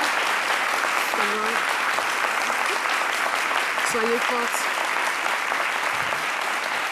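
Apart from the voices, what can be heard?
audience applause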